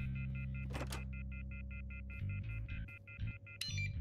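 One Armed Robber heist game phone check-in, with a rapid string of evenly spaced DTMF dialing beeps over a steady low hum, a brief burst of noise early on and a short tone cluster at the end.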